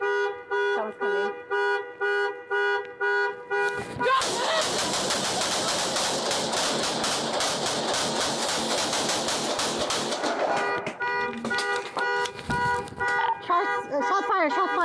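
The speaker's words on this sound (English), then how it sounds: "Shots fired, shots fired." Deputies fire a long, rapid burst of loud gunshots at a house for about six seconds, with a wailing, alarm-like tone sounding before and after.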